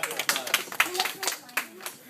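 Students clap in a short burst after a tongue depressor bridge breaks during a school MESA challenge, uneven sharp claps under excited speech.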